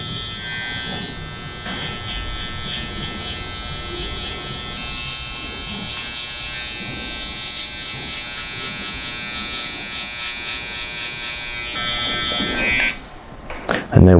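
Electric hair clippers buzz steadily while cutting a low skin fade on Afro hair in a barbershop, a continuous close drone that changes tone briefly near the end.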